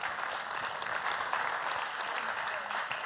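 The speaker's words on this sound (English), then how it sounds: "round of applause" An audience at a summit talk on storytelling breaks into steady applause, a dense continuous clatter of many hands clapping throughout.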